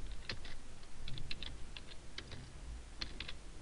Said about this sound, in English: Type what I want into the text box.